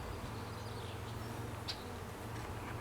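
A faint continuous buzz of honeybees around an open hive while a frame is inspected, steady and low with one brief higher sound midway, no voices.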